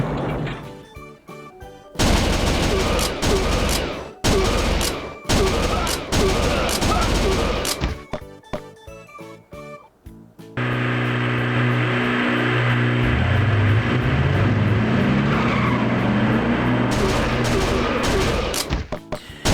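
Gunfire from an old Sega arcade shooting game: rapid volleys of electronic shots and bursts stutter in close, loud clusters, then give way to a continuous roar of game music and effects.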